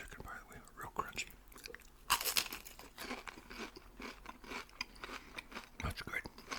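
Crunchy fried chicken from Lee's Famous Recipe is bitten and chewed close to the microphone, with crisp crackling crunches and wet chewing. Soft whispered speech runs underneath.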